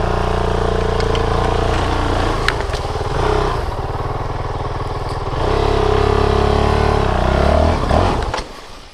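A Honda CRF450L dual-sport motorcycle is ridden, its engine thumping loud and close, surging and easing as the throttle changes, before the sound drops away sharply near the end.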